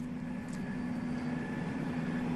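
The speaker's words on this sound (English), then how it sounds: "You can hear the helicopters overhead" Helicopters circle overhead outside a Walmart in El Paso, Texas, after a shooting, a steady low rotor drone continuing without a break for over two seconds at moderate distance, with no one talking over it.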